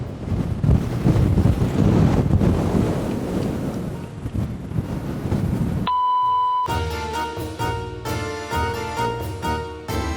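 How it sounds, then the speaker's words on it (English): Strong wind on Mykonos island buffets the microphone with a loud, rumbling roar for several seconds, then steady music takes over. "This is so windy."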